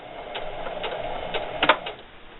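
Close, steady stitching from a sewing machine running a seam down a fabric holiday gift bag: a soft whirring hum broken by regular clicking pulses, with a sharper clack near the end, no voices.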